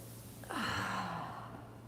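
A single audible exhale during a kundalini yoga forward fold, a soft breathy sigh that starts with a slight catch and fades out over about a second, close and quiet against a low hum.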